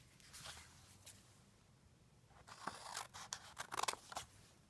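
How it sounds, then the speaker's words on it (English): Scissors snip through wallpaper while making a gift box: a few faint cuts early, then a quick run of sharper, louder snips and paper scrapes near the end. "Now I'm going to cut on this line"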